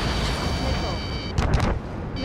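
An F-35C fighter jet fires a missile in Ace Combat 7 multiplayer: a short, forceful whooshing burst rises partway through over a steady jet-engine roar.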